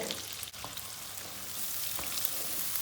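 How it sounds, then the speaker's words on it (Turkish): Soft, continuous sizzling of washed rice toasting in hot fat in a pan over medium heat, a steady crackle with a couple of faint clicks. "pirincimizi kavurmaya başladık. Orta ateşte."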